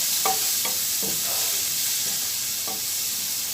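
Veal pieces seasoned with black pepper browning in a hot pan, a steady bright sizzle with a few soft stirring scrapes, close and continuous with no talk.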